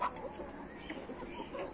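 A young chick, still a small pullet of a breed that will grow into a handsome rooster, clucks softly and continuously at close range with a faint farmyard background.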